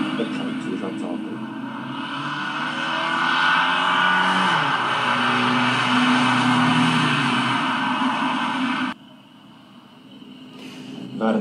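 A solar-powered race car without auxiliary drive or support battery passing by, a loud whirring drone that rises and sweeps past over several seconds, then cuts off abruptly with a quieter tail and a brief burst at the end.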